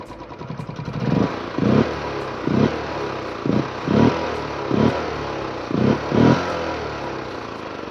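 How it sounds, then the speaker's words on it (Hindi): A Honda H'ness CB350 motorcycle with stock exhaust idles steadily after starting, with a low, lumpy exhaust thump pulsing in a regular rhythm, close and alone. "ये सब स्टॉक एग्जॉस्ट हमारे में निकला है। ये इसकी आइडल साउंड है आफ्टर स्टार्टिंग।"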